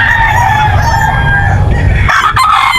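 Young rooster, a straight-combed stag, crows loudly and close in one long, strained call with a ragged ending, set against farmyard background noise.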